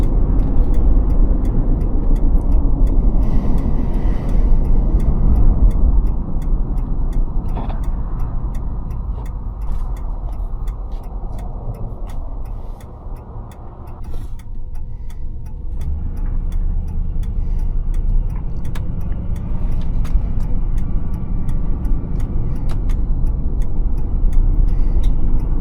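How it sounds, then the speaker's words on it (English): A 2004 Mercury Grand Marquis LS Ultimate Edition with a 224-horsepower V8 and 358,000 miles, heard driving as a steady low engine and road drone, loud and close, with a slight dip midway and faint ticking on top. "So this thing puts out 224 horsepower with that V8."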